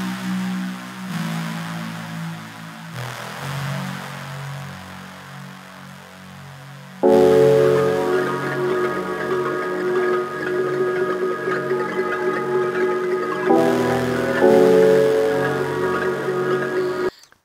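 Wide ambient synth chords hold under a shimmering arpeggiated pattern for a song's verse, starting softer and swelling fuller and brighter after a few seconds, with steady sustained layers and no voices.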